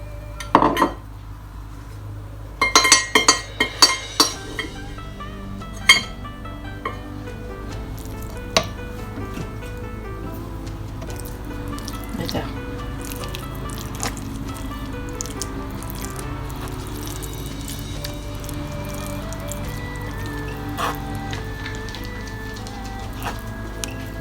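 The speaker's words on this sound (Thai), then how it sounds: "แล้วนาสิเทเครื่องแกงส้มลงไป" Sour curry paste is tipped into a cooking pot with canned fish: a few sharp clanks of utensil against pot at first, then a steady low simmering sizzle with occasional soft knocks.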